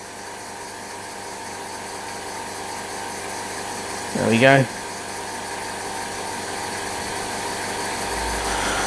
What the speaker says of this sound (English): So I'm going to do something I don't normally do, and that is run it on compressed air.